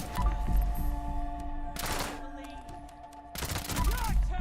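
A plasma gatling fires in the video game Fallout 76: two rapid, buzzing bursts of energy-weapon fire ring out amid rumbling in-game ambience, with a player's voice faintly audible.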